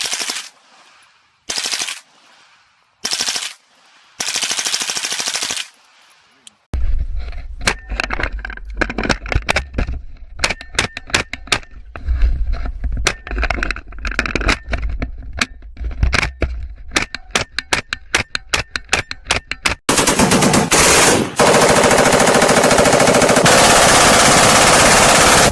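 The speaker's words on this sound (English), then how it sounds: "Handgun shot. 1 round. 300 yards." Handgun fire at a firearms training range, aimed at a target about 300 yards away: after a few isolated sharp reports, loud shots crack in quick, dense succession, nearby and with no talking.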